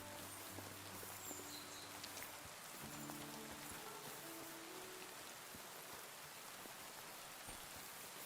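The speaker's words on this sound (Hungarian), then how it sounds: "Itt bent is esik?" Rain falls indoors in the video game Baldur's Gate 3, a steady, faint patter of drops on surfaces that continues throughout, with low musical tones underneath.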